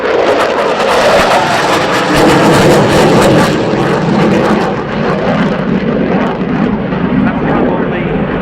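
Dassault Rafale C jet of the French Air Force flying a display at RIAT 2016 airshow, a loud, roaring jet pass that swells and fades away, with a commentator talking over it.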